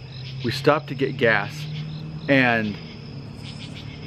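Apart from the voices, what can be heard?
crickets or cicadas chirping at night in the woods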